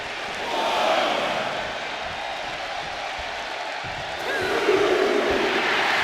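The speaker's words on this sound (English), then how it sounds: "And Rhea is revving this crowd up." A wrestling arena crowd roars steadily for Rhea Ripley during her match, a dense sustained wall of cheering that swells near the start and again toward the end.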